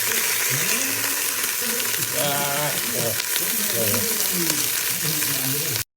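Kebab halla meat fries in a pot with a steady, dense sizzle, while a voice talks over it throughout and stirring noises come and go.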